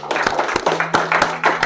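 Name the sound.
applause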